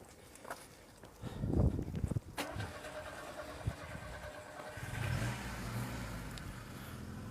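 A Dacia Duster drives past and turns around on a street, its engine rising from a faint idle to a louder revving pass, with a sharp thud partway through and steady road noise afterward.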